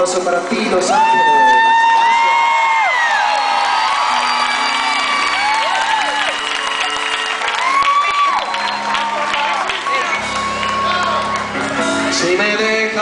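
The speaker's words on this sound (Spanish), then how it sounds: "Un aplauso para ti, Los Ángeles." A concert crowd at the Greek Theatre in Los Angeles cheers, whoops and applauds under a performance. A voice carries over the noise throughout and shouts ring out above it. The crowd noise is loud and dense and the sound comes from close by.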